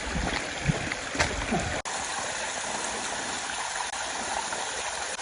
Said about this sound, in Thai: นี่คือน้ำตกใช่ไหมที่เราตามหาเนี่ย